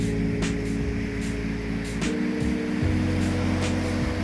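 Gentle ocean waves wash steadily onto Pangi Beach in Blitar, a sheltered cove where fishing boats are moored; a continuous soft surf roar fills the air with faint wind, and no voices are heard.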